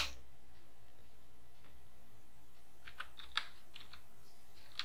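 Typing an address into a form on a computer keyboard: a handful of sparse, close key clicks, with a small burst of taps near the end over quiet room hiss.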